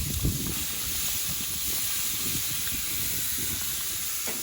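Steak sizzling on a gas grill with Worcestershire sauce, a steady close hiss of searing meat with soft crackles and a brief louder pop at the start, no talk.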